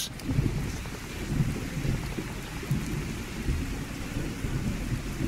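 A thunderstorm in the video game Fallout 4, with steady rain and low rumbling thunder rolling continuously through the scene, no voices.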